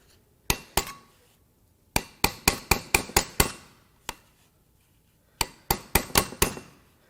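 Hammer blows on a seized, fused bearing during the teardown of a neglected Chevrolet Silverado LM7 5.3L V8, ringing metallic strikes up close in quick bursts of several hits separated by short pauses, with no talking.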